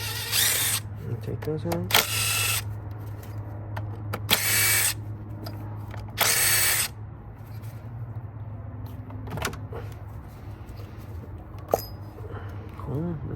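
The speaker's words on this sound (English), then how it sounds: "I went ahead and got my impact with some extension and a 10 millimeter." Impact wrench on an extension with a 10 mm socket removing bolts from a 2016-2024 Chevy Malibu, firing in several loud, brief bursts of rattling hammering separated by pauses, with someone talking in between and a steady low hum underneath.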